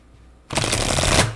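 A burst of dense, rapid riffling starts abruptly after a quiet moment and continues steadily, an oracle card deck being shuffled close by.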